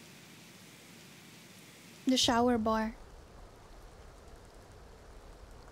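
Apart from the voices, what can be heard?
rain falling in The Sims 2 Castaway video game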